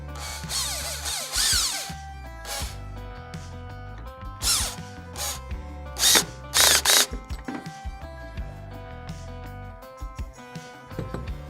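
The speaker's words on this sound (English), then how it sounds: "Make sure your drill clutch is set at a fairly medium setting" A power drill driving a screw whirs in bursts with ratcheting clicks and metallic mechanical rattling, close by, stopping and starting over several seconds.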